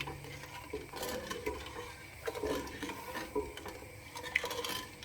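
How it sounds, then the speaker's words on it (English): A utensil stirs creamy Alfredo sauce in a pan for chicken fettuccine, making soft scraping and clinking strokes at an uneven rhythm, close and fairly quiet, with no talking. "Stir it."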